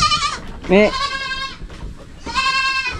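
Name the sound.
goat bleating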